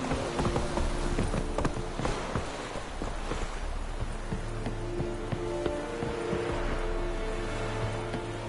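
Roach the horse trots along in The Witcher 3, hooves clip-clopping in a loose, ongoing rhythm beneath a busy wash of ambient game noise, fairly close and unaccompanied by speech.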